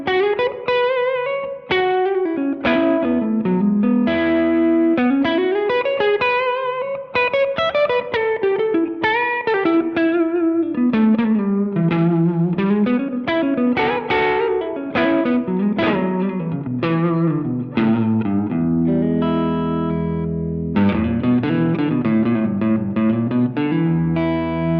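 Electric guitar on a Stratocaster's middle pickup played through an effects pedal at a flat setting: a continuous melodic line with chords and sustained notes, loud and close with a processed, shimmering tone and no talk.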